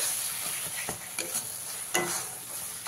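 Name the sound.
mustard and green chili paste stirred into frying masala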